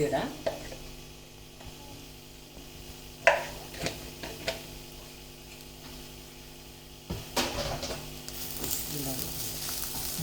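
Curry leaves and other ingredients sizzle as they are sautéed in a frying pan, a low steady frying hiss broken by occasional sharp clinks and scrapes of stirring, with a louder burst of crackling toward the end.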